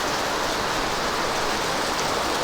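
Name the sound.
heavy rain during a typhoon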